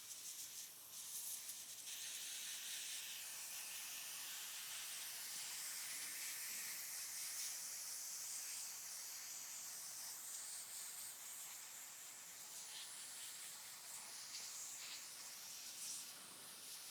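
Brake cleaner sprayed onto the threads of a trailer wheel hub during a bearing replacement, a steady loud aerosol hiss running unbroken for the whole stretch, close to the microphone, with no talk.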